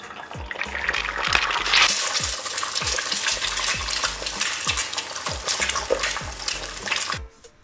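Beef tapa fries in its own rendered fat, a loud, steady sizzle and crackle with repeated scraping strokes of a spatula stirring the meat, continuing without pause until it cuts off near the end.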